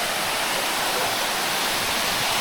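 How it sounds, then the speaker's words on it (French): Waterfall cascading into a shallow river pool in a hidden village in Colombia, a loud, continuous broadband rush of falling water heard up close with no other sounds. "cette cascade là elle est pas très profonde"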